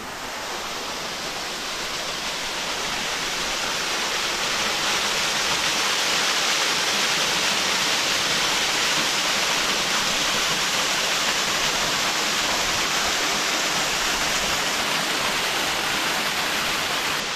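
A small waterfall and mountain stream at Houdongkeng in Yilan rush continuously, a broad, steady roar of falling water that builds slightly in the first seconds and then holds close and loud, with no voices.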